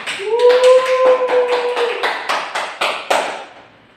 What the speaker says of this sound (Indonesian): Beri tepuk tangan dulu untuk Anissa.